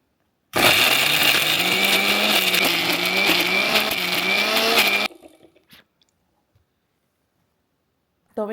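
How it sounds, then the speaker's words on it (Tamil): Electric mixer grinder jar whirring loudly as it grinds thick radish chutney, a steady high motor roar that cuts off abruptly, followed by near silence and a brief sound at the end. "ஆறினதுக்கப்புறமா மிக்ஸி ஜாரில் போட்டு அரைச்சிக்கலாம்"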